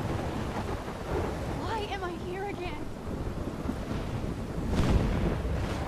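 Stormy wind gusts through the Life is Strange game in a steady rushing roar with a rainy, thunder-like rumble swelling near the end, while a voice speaks faintly underneath.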